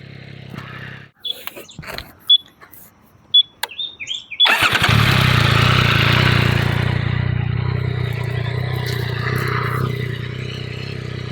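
A Yamaha Tracer 9GT motorcycle with its standard exhaust clicks and clatters, then fires up and settles into a loud, steady idle close by.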